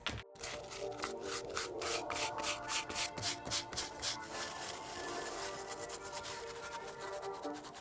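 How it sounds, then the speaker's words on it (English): Stiff bristle brush scrubbing dried residue off the soles, midsoles and uppers of old OG Jordan sneakers, a close, quiet series of rhythmic rasping back-and-forth strokes that blur into steady scrubbing. "grab a stiff bristle brush so we can brush off the soles, midsoles, and uppers to remove any remaining residue"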